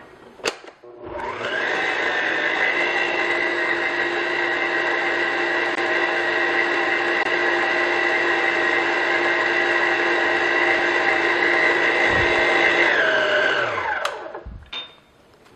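An electric mixer beats egg yolks into pineapple upside-down cake batter, whirring steadily and loudly for about twelve seconds with a clear start and stop, no talking over it.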